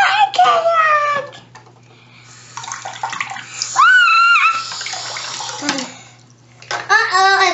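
Water sloshes and splashes in a tub around a toy boat while a child chatters and squeals playfully nearby, with bursts of louder splashing.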